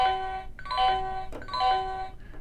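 A Magic Chef talking microwave's food-done alert plays as two clear ding-dong chime tones in a row, ringing moderately loud and close in a quiet room.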